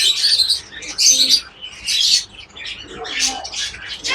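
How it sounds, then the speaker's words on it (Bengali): Chirps and tweets in bursts from a flock of birds, including white crested pigeons, dominate, with low coos faintly beneath and a brief flutter of wings. "অসাধারণ সাদা কোপাওয়ালা কবুতর।"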